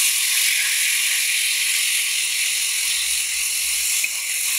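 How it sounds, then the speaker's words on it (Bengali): Ground spice paste hitting hot oil in a pan for a pumpkin bori curry, a loud continuous hissing sizzle that holds steady throughout, with one brief clink near the end. "এবার এর ভিতরে বেটে রাখা মশলাগুলো দিয়ে দিব"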